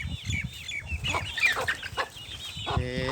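Chickens, including Chinese hens, clucking as they gather at dusk on a rooftop, several birds calling close by in quick overlapping bursts, with one longer drawn-out call at the end.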